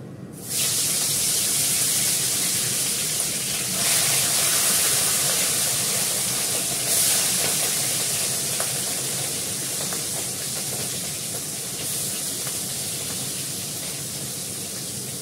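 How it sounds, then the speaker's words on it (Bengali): Hand-cut potato chips fry in hot oil, four at a time, as a loud, steady, close hiss and sizzle with faint crackles that never stops. "চারটে করে ভাজছি, দুবার ভাজবো"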